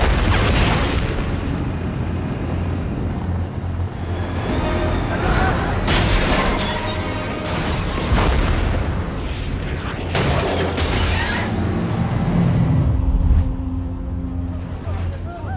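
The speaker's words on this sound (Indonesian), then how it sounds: "sesekali dihantam ledakan bom yang berasal dari ranjau di jalanan" Bomb blasts from road mines in an action film scene, heavy booming explosions layered with rumbling vehicle noise and debris, loud and continuous with several big bursts.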